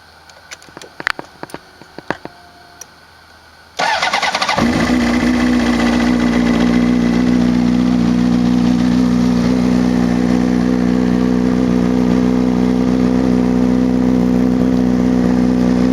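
A motorcycle's ignition comes on with a few faint clicks and a brief fuel pump hum, then the engine starts abruptly and settles into a loud, steady idle that continues evenly.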